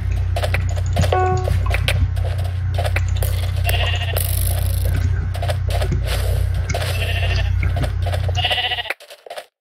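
Sheep in the Minecraft video game bleat repeatedly, loud and close, over a steady game background hum, with no talk.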